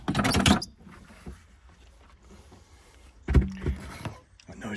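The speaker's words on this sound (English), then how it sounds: "That noise was me taking the spare wheel out." Clunks and scraping rattles as a spare wheel is lifted out of a car boot, with a loud burst at the start and another about three seconds in, quieter rustling between.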